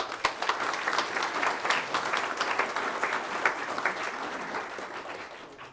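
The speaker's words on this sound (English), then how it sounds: "One more round of applause, please." Steady applause from the audience at a school board meeting, many hands clapping close by without pause and tapering slightly toward the end.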